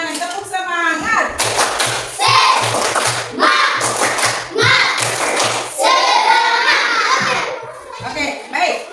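A classroom group of children performs a rhythmic spirit clap in bursts, loud close claps and thumps alternating with chanting voices and a teacher talking.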